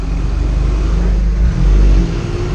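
A remapped Chevrolet Tracker Premier 1.4 with Stage 2 tune and downpipe accelerates hard, a loud, deep engine drone swelling briefly before easing, heard from inside the car.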